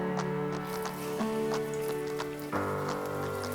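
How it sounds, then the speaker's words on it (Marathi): Stuffed pomfret fish slides into hot oil in a flat pan, giving a steady crackling sizzle that swells a little louder after a few seconds as the fish settles into the oil. "आता आपण ह्याच्यात मासा सोडूया."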